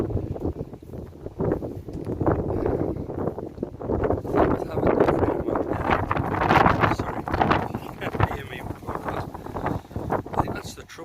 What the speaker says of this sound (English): It's not so much the normal wind, it's just the gusts.